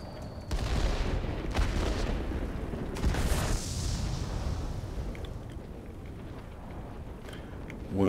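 Anti-aircraft fire in the World of Warplanes combat game, a dense, continuous rumble of distant bursts and booms that rolls on without a break for several seconds, with no voices.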